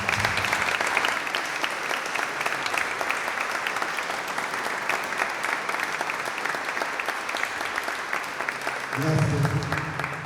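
An audience at an event about living with Parkinson's claps steadily for about ten seconds in loud, continuous applause, with a voice briefly speaking near the end.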